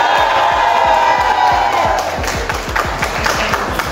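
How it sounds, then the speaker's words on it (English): Wedding reception guests at a country inn cheer, whoop and shout together in a loud, continuous crowd roar, with rhythmic thumping music underneath throughout. "All Preveshen's family and friends, make some noise"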